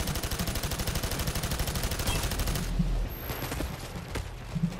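Rapid automatic gunfire from the video game Payday 2 rattles in a loud continuous burst, then breaks into scattered single shots and impacts.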